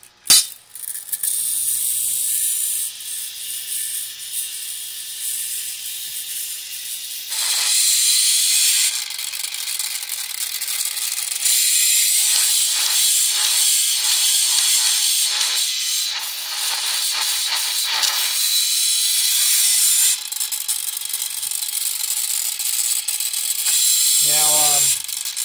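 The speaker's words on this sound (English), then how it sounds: "I'll put it back down. You see it spinning." Magnetic flywheel generator spinning with a continuous whirring hiss and faint ratcheting mechanical clicks, close and fairly loud, briefly rising and dipping in intensity, with no talk over it.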